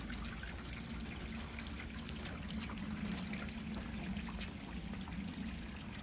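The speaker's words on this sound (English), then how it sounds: "water on the ground is just a little overspray from the hose" Water from a garden hose sprays and trickles onto the ground beside a house, a steady, soft patter and dribble that runs continuously at a low level with no talking.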